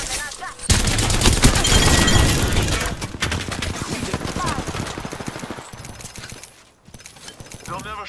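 Apex Legends gunfire in a loud, sustained firefight: dense automatic bursts, with a short drop in level near the end before the shooting picks up again.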